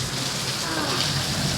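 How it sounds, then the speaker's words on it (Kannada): Steady rain falling outdoors on a farm, a dense, continuous hiss of drops on surfaces, fairly loud and even throughout with no voices heard. "ಮಳೆ ಬಂತು"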